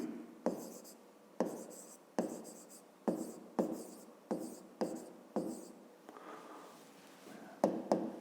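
Chalk or pen writing a math equation on a surface, about ten distinct strokes in an irregular rhythm, each a sharp start tailing off, quiet and close with no talk.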